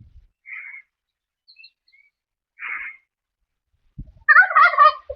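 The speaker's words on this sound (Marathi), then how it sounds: "आम्ही तुमच्या मागे तो पक्षी बघतोय, ती म्हणजे टर्की बर्ड." A turkey on a farm where bulls are kept gives short, separate calls, then a loud burst of gobbling near the end. Long quiet gaps lie between the calls.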